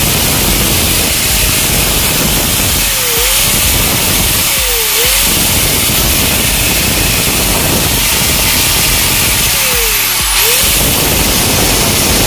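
A repaired Bosch GSW-7 100 angle grinder switched on and running, a loud steady broadband whine that holds continuously throughout, with brief pitch dips as the motor load shifts.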